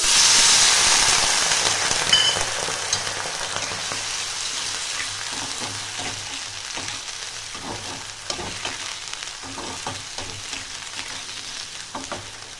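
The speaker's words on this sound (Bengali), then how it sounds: "জল দিয়ে একটু ফুটিয়ে নিতে হবে।" Roasted poppy seeds and kasuri methi hiss loudly as water hits the hot pan, a sharp burst of steamy sizzle that fades into steady bubbling and faint stirring scrapes.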